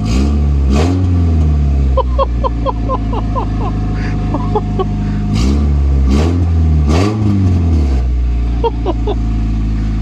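A 1996 Honda Civic EK3, newly restored, idles loudly up close as its engine is blipped in several sharp revs, each rising and falling back to a steady idle hum.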